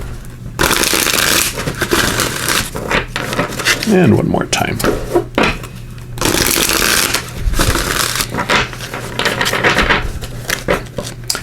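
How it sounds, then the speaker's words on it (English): Archangel Power tarot cards shuffled by hand in repeated bursts of rustling, riffling card noise with short pauses between, close and fairly loud, with someone speaking briefly partway through. "So just give these a good shuffle."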